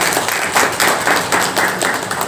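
An audience applauding the chief guest at a Senior Citizen Care Foundation event for World Elder Abuse Awareness Day, loud, close hand claps in rhythmic bursts filling the room.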